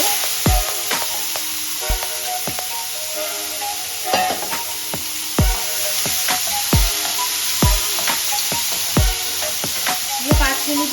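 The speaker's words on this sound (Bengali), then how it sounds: "এবার আমি জল ঝরিয়ে রাখা আলুটা দিয়ে দেব।" Potatoes, drained of water, sizzle loudly in hot oil for Bengali alu morich, a steady frying hiss broken by regular sharp clinks and scrapes of a spatula stirring the pan, close up with no talk.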